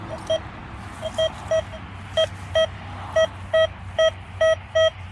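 A Deus II metal detector sounds about a dozen short, mid-pitched beeps in an uneven rhythm over a steady low hum, signalling a target.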